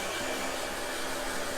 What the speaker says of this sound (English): So let's go ahead and hit this with a dryer.